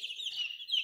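Baby chicks give a quick run of thin, high-pitched peeps, close and fairly soft, with no other sound around them.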